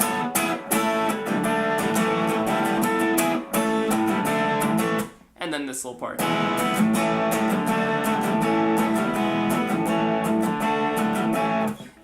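Guitar playing a song in a lesson, steady rhythmic chords filling the clip with one brief pause midway, and a short spoken remark near the pause.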